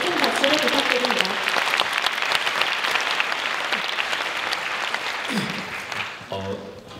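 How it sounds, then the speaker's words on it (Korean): Audience applause at a university entrance ceremony, a dense steady clapping crowd filling the hall for several seconds before thinning out near the end. "안영희 선배님께 큰 박수를 부탁드립니다"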